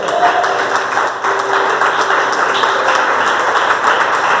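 A church congregation claps during a sermon, a dense, steady wash of many hands filling the whole stretch, fairly loud and continuous with no clear pauses.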